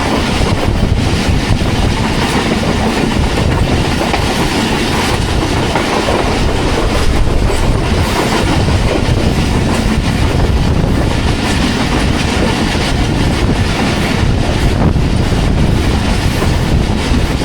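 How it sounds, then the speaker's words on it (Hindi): Pakistan Express passenger train running through Sihala railway station without stopping on an early, rainy morning, heard from on board: a loud, steady rumble with clickety-clack of wheels over rail joints and wind noise throughout, no talking. "सिहाला रेलवे स्टेशन को थ्रू पास कर रही है 46 टाउन पाकिस्तान एक्सप्रेस"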